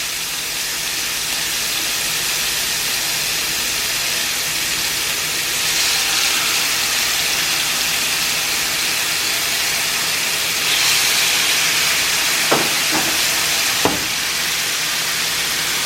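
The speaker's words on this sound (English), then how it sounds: "We frying salmon, blackening salmon, you guys." Blackened salmon frying in oil in a pan, a loud, steady sizzle and hiss that runs continuously, swelling slightly at moments and broken by a couple of sharp clicks near the end.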